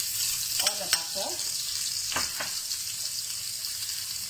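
Butter melting in a hot pan after salmon has been cooked, giving a dense, steady sizzle with a couple of brief stirring clicks, close and fairly loud.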